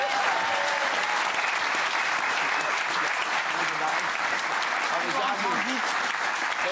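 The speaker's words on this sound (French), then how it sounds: "chez applaudissements pour lui quand même" Studio audience on a French television talk show gives a guest a round of applause, continuous, even clapping from a crowd throughout, with voices faintly under it.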